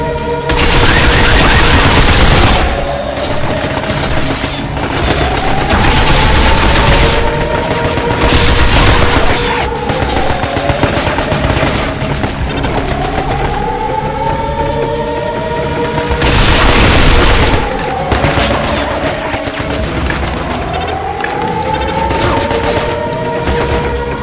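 Repeated bursts of heavy automatic gunfire aimed at robots in the shooter Binary Domain, loud and close, with metallic impacts, mechanical whirring and sweeping tonal effects between volleys.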